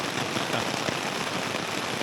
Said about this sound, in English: It's raining quite a bit now.